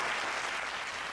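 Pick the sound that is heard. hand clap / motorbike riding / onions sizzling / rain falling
hand clap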